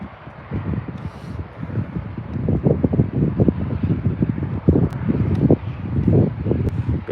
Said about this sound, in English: Bit windy again now. Bit windy again. At least at the end of the airfield.